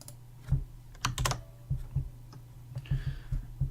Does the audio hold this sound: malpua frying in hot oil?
no